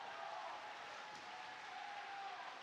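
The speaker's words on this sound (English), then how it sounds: "Let's hear it for the first place champs, Void and NAKAT." Applause from a live crowd at an esports fighting-game grand final for a MultiVersus tournament, a steady dense wash of clapping held at an even level throughout.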